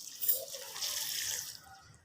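A small amount of water is poured into a pot of sugar and chopped raw mangoes, a short, quiet splash and trickle heard close up with no talking.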